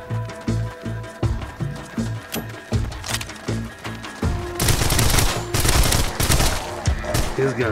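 Rapid gunfire from a weapon in the Arizona Sunshine VR game, with steady rhythmic shots building into a dense, loud burst of automatic fire.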